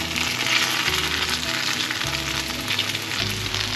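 Lotus root meat patties coated in sweet potato starch fry in a pan over medium-low heat, giving a steady, close sizzle with faint shifts as they are turned. No one speaks.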